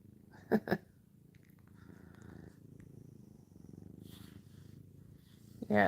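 A house cat purrs softly and close by, a low continuous rumble that runs through the whole stretch under a few brief louder thumps and rustles, with no voices.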